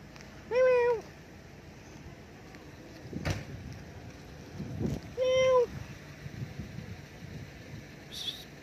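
Two clear cat meows from a street cat in Ayala Alabang Village, about five seconds apart, close by, with soft rustling and scattered thumps between them.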